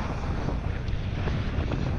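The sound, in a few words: wind blowing on a bike park trail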